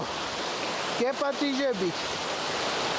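A cold mountain stream rushes in a constant hiss, while a voice briefly speaks over the flowing water midway.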